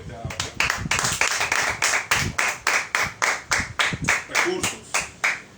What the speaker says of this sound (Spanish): Dale un aplauso a Dios por lo que te ha dado.